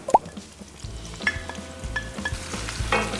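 Onions added to lightly browned garlic sizzle and fry in a pan for pork menudo, with steady close crackling, clinks of stirring and a sharp knock near the start.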